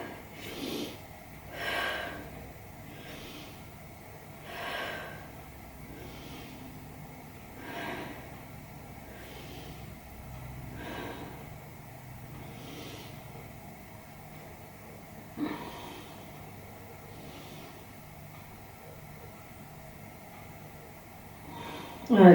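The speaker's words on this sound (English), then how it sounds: "Breathe into the back, nice big breaths." Slow, deep breaths during a yoga stretch, each inhale and exhale rising and fading about every three seconds, soft and close over a quiet low hum.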